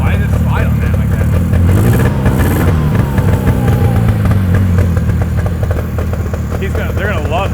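A 1970 Subaru van's two-stroke engine revs loud and close, its rattly buzz rising and falling steadily with clattery mechanical noise, while people talk over it.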